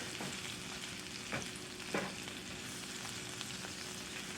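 Onions sauté in a hot pan for a double cheeseburger, giving a steady, close sizzle and crackle throughout, with a few sharper pops and no talking.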